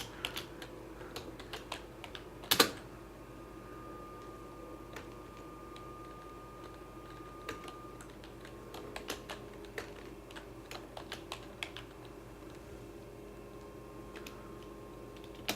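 Computer keyboard keys pressed while typing up a CV, scattered quiet clicks and taps in an irregular rhythm with one louder bang, faint and close over a low electrical hum, no talking.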